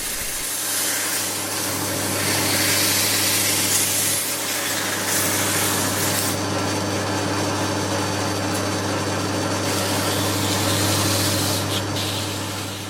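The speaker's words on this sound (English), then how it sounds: "now we can sand it" Sanding a turned wooden cart part on a lathe: a continuous loud rubbing rasp over a steady low machine hum, close and unbroken throughout.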